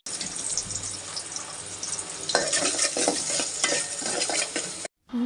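Onions fry with spices in oil in a pot, a dense bright sizzle with a utensil stirring and scraping through it, briefly cutting off near the end.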